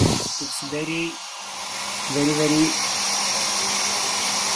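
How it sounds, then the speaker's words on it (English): A Philips HP8100 hair dryer runs with a steady, airy whoosh that fills the whole stretch. A person talks over it close by. "I will start the hair dryer"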